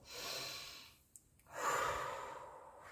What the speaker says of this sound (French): On va prendre une grande inspiration.